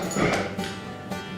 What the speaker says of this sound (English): Tucker, what are you barking at?